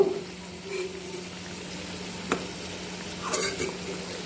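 Palm fruit sweets (tati appalu) in hot oil for an Andhra-style recipe, giving a low steady sizzle with a couple of brief clinks of a utensil, fairly faint and with no talk.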